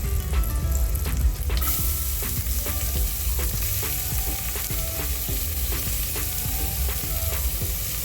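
Onions frying in a pan for biryani, a loud steady sizzle with a burst of hissing at the start and repeated stirring clinks and scrapes throughout, with no talking.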